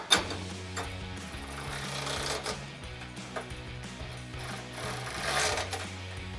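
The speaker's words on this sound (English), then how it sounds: "I've got a 13mm ratcheting wrench for that one." A 13mm ratcheting wrench tightens a bolt on a steel side step of a Jeep Wrangler JK, giving a close, steady train of rapid ratchet clicks with a few sharper knocks.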